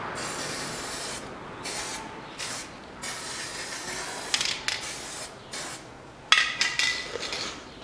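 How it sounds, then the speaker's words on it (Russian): An aerosol lubricant is sprayed onto the front hub seat of a 2014 Nissan X-Trail in several close hissing bursts separated by short gaps, with a few light metallic clinks near the end. "Смазываю посадочное."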